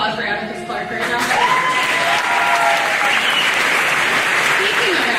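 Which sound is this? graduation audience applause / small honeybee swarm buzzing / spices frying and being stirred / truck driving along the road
graduation audience applause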